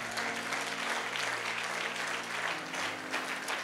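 A church congregation at a French-language service claps in sustained, dense applause that fills the room and stays steady and loud throughout, with a low hum running underneath.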